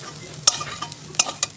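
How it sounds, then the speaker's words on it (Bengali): Egg and chopped vegetables for a momo filling fry in a pan, with a steady low sizzle and three sharp spatula scrapes and clacks as the mixture is stirred. "ডিম ও সবজি সবটাই বেশ ভালোভাবে ভাজা হয়ে গেছে"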